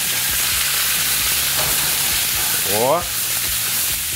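Turkey hearts and garlic dropped into hot oil in a pan, a loud close sizzle with a short exclamation from a voice near the end.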